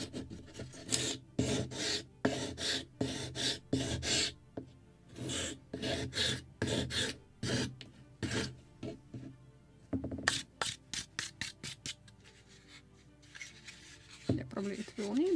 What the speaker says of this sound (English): probably it will need a little more sanding